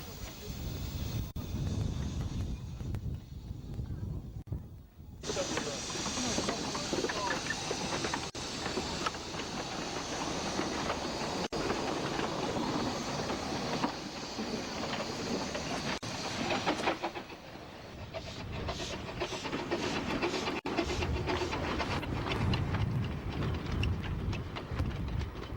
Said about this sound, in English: As the train leaves Kingsway station,